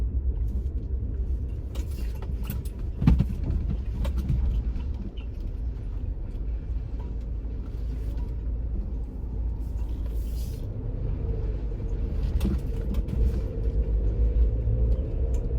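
Muffled low rumble inside a car rolling over uneven ground, with occasional knocks and jolts over a steady road hum; no one speaks.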